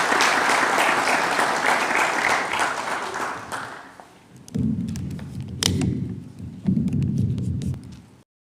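Audience applause at the launch of draft Public Benefit Organizations Act regulations at KICD, a dense round of clapping that fades out, followed by thumps and shuffling noises in the room.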